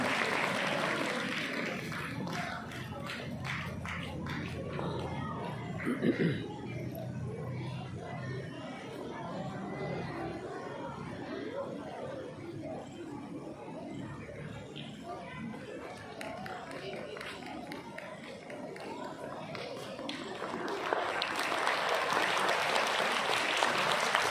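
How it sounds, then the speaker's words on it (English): Audience applauding a teacher at a school Independence Day celebration, a steady wash of clapping lasting throughout, with talk and crowd murmur mixed in and a louder swell near the end. "Please give a big round of applause for ma'am."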